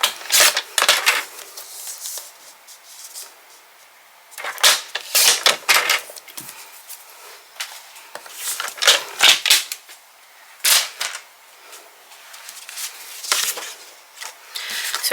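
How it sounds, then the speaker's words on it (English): Paper trimmer slicing a quarter inch from two sides of cardstock for a card, sharp close bursts of cutting and sliding with short pauses between strokes. "I'm going to grab my paper trimmer, and I'm just going to trim off 1/4 inch on 2 sides."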